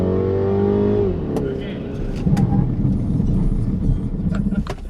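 A Mini Countryman S pushed through a slalom course, its engine droning steadily then easing off and building again, heard from inside the car as people talk over it.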